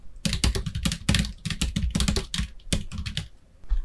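Fingers type text on a computer keyboard, close by, in quick uneven bursts of sharp key clicks with short pauses between the runs. There is no speech.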